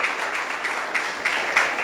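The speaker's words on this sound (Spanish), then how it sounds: "Dale un fuerte aplauso al que vive." A church congregation applauds with dense, sustained clapping that fills the room evenly over a couple of seconds.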